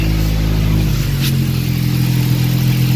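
A car engine runs loud and close right after a PRL downpipe and frontpipe install. It holds a steady, droning idle with a slight shift in pitch partway through, and no one speaks.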